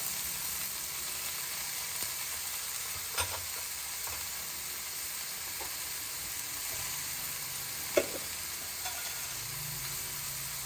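Carrots and coconut for a fry sizzle steadily in a hot pan of tempering, a soft continuous frying hiss with a few faint clinks of stirring.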